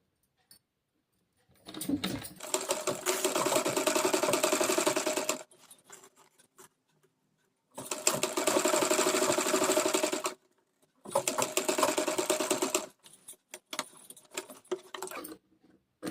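A sewing machine stitches a zip onto a kurti in three long, loud, even runs of rapid needle clatter, each a few seconds long, separated by short pauses with light handling clicks.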